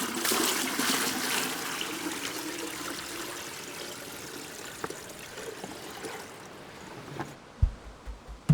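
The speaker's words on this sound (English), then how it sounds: "All of the streams are rushing a little more all around us too." Water rushing in winter streams during a sailing trip in Canada, a steady broadband wash that runs on continuously, fading toward the end as a few low knocks take over.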